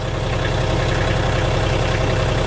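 A Kioti K9 cab tractor's engine idles steadily in gear, a loud, even diesel rumble with a constant low throb that holds without change from start to finish.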